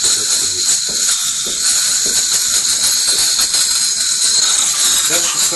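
The steam wand on a coffee machine blasts out a steady, loud, broad hiss of steam that holds unbroken for several seconds, close up and alone.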